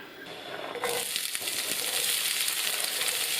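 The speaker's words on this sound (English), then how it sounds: "chuck a bit of onion in there to indicate when it starts to sizzle" Onion sizzling in olive oil in a frying pan over medium heat: a quiet start, then a steady, close crackling hiss from about a second in that holds to the end, with no talking.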